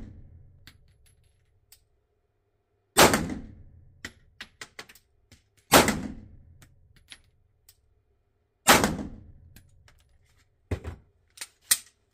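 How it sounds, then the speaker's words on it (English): DY9 pistol fired in group shooting at 5 metres, three sharp loud shots spaced a few seconds apart, each followed by small clinks and taps of ejected casings, with no talk. "DY9 tabanca modelimiz ile şimdi 5 metrede grupman atışı yapacak."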